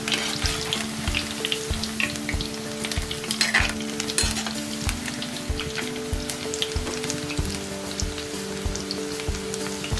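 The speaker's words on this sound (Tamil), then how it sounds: "ஒரு பக்கமாக நல்லா ஃப்ரை ஆகிட்டு இப்போ இன்னொரு பக்கமாக திருப்பி" Cauliflower pieces frying in a pan, a dense crackling sizzle throughout with a steady series of spatula knocks and scrapes as the pieces are turned, near and fairly loud.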